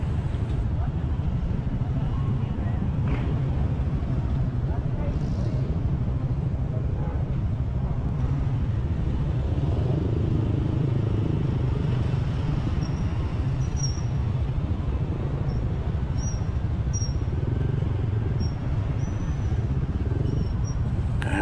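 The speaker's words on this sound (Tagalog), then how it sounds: "bumper to bumper na traffic during rush hour" Rush-hour traffic crawls bumper to bumper through a choke point in Angeles City, a constant low engine rumble and road noise with faint higher whines and a voice talking over it.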